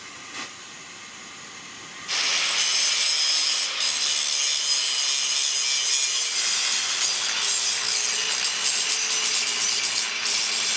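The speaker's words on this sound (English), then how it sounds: "I'm going to grind down the excess metal" An angle grinder grinds excess metal off a truck axle during a Coyote engine swap into a Ford F100, starting after a quiet moment and then running as a loud, steady, hissing whine to the end.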